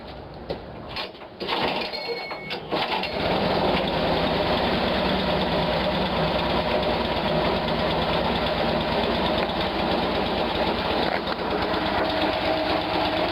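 A snow blower engine cold-starts with a few rough sputters, then settles into a loud, steady, close-up idle with a rapid mechanical knock and no talking.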